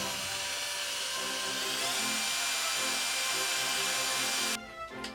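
A power drill bores through a DIY pegboard panel for a sewing thread rack, a steady loud whine holding for about four and a half seconds before cutting off abruptly into a brief quieter tail.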